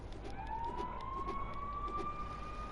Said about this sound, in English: I love all the cop siren sounds and stuff in the background.